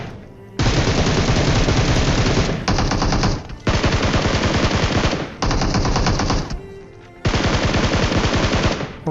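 Loud automatic gunfire in a battle royale video game rattles in long sustained bursts with brief gaps between them, close and dominant.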